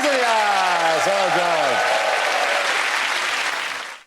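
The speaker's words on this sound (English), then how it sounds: "And that round of applause go to Tessa" Steady applause from a stand-up comedy audience for Tessa, a dense clapping wash with a voice speaking briefly over the start, fading out at the end.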